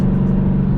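A Dodge Challenger engine holds a steady, raised-RPM drone, loud and close, with a constant low hum and no break in tone.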